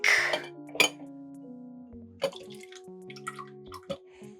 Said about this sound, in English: Okay, I put 2 ice cubes.